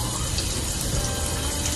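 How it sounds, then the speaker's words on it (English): Hot shower water running: a dense, steady gushing spray, loud and close, continuous throughout with no talking. "As you can see, the hot shower is going."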